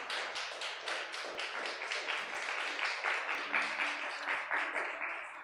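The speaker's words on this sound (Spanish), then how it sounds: "Dale un aplauso a Dios." A Spanish-speaking church congregation claps at the end of an evening service, with many hands striking in a fast, steady rhythm that keeps a regular pulse throughout.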